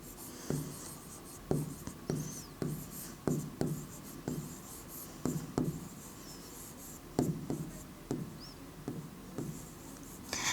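Handwriting during a Class 8 maths lesson on inverse proportion: a close series of scratchy pen strokes in a steady, uneven rhythm, roughly a dozen marks, with no talking.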